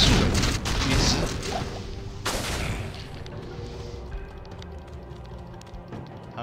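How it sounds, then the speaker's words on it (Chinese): A meteor spell explodes in Diablo II, hitting as a loud, dense burst of booming crashes up front that decays into rumbling, crackling debris over several seconds. "陨石术，陨石！"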